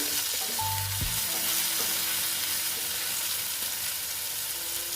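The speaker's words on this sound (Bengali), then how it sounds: "ধনের গুঁড়ো দিয়ে একটু নেড়ে নিচ্ছি" Banana flower with coriander powder sizzles steadily in a frying pan, a bright continuous hiss close by, with a few soft stirring knocks near the start.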